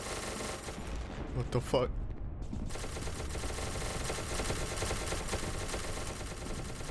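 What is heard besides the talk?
gunfire in SCP: Secret Laboratory video game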